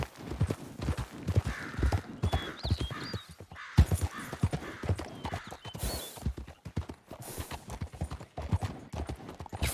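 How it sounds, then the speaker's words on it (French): A horse gallops with dense, steady clip-clopping hooves throughout, loud and close, with a brief whinny-like cry partway through. "Et tu le fais galoper, hein."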